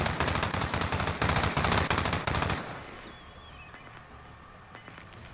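Rapid automatic gunfire from the video game Call of Duty: Modern Warfare, loud dense bursts for about two and a half seconds, then fading to sparse faint shots and small pings.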